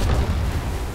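Artillery fire in the World War 2 strategy game Headquarters, a single deep, rumbling boom that fills the short moment with a heavy low-end roll and no break.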